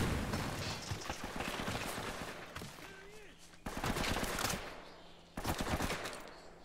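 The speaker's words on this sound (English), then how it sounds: "Someone shooting from the left." Bursts of gunfire from the video game Uncharted 1, with rapid automatic shots crackling loudly in several clusters that stop and restart, over a busy battle ambience with some voice in the mix.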